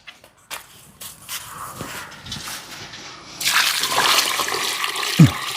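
Water poured out at a dragon fruit farm, a soft trickle that swells after a few seconds into a loud, steady gush with a brief splash near the end.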